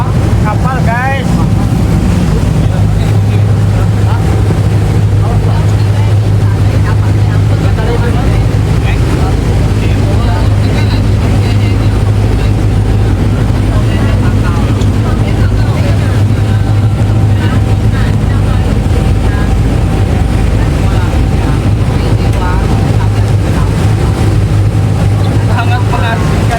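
A boat's engine drones steadily on an open sea crossing near Penghu, Taiwan, with a low constant hum under heavy wind buffeting the microphone and occasional voices throughout.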